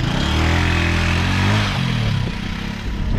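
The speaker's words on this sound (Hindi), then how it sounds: "चलाएं जरा बाइक को।" Motorcycle engine running steadily at close range on a seaside road during Cyclone Tauktae, with a loud, continuous low rumble and a slight dip in level toward the end.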